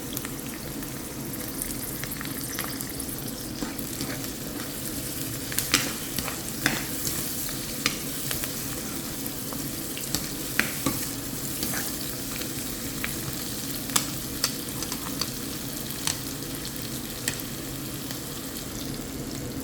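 Onions frying with salt for ulli theeyal, a steady close sizzle running throughout with scattered sharp pops and spatters and occasional stirring scrapes.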